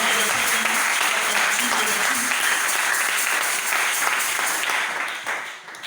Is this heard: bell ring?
no